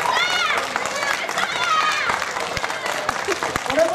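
An audience at a cheerleader drawing game show claps and applauds, with lively crowd noise and a host talking over it throughout.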